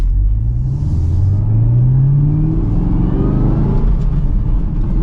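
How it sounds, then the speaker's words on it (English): A 2023 Chevrolet Camaro ZL1 with a supercharged V8 accelerates hard from first gear, its deep engine rumble rising steadily in pitch, loud and close from inside the cabin, with no talking. "But let's give it another acceleration here. From first gear, here we go."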